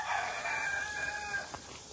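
Backyard flock of chickens with a rooster, crowing and clucking at a moderate distance over a steady outdoor background hiss, with no talking.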